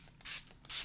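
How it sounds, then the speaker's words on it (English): Water spray bottle used on a mixed media planner page: two quick hissing spritzes about half a second apart, each preceded by a faint trigger click, close and with no talking. "next I'm going to take my water spray."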